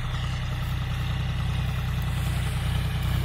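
A John Deere 5205 50 hp tractor, hitched to a harrow, runs steadily at about 1300–1400 RPM, a close, loud diesel throb with a deep even pulse and no break, no speech.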